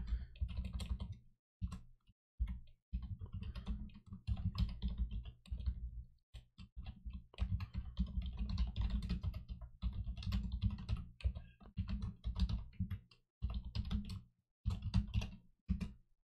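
Fingers type on a computer keyboard, a close, busy stream of key clicks in bursts broken by brief pauses, with no talking.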